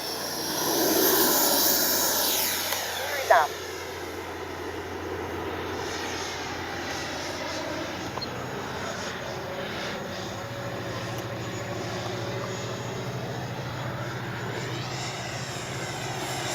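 An FMS Avanti S 90mm RC model jet flies with a continuous turbine-like whoosh that is loudest early and then settles into a steady, fainter drone. A brief sharp click comes near the start.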